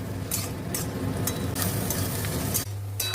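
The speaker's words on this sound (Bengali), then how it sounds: "ভালো করে ভাজবো পেঁয়াজের মধ্যে অল্প একটু লবণ দেবো খুবই সামান্য" Onions frying in a pan with a little salt, a steady soft sizzle with occasional stirring scrapes, close and continuous with no voices.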